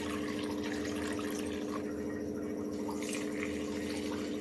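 Steady stream of water poured into a bowl of ragi flour while preparing a batter for ragi, peanut and sesame modak, a continuous close trickle with no talking.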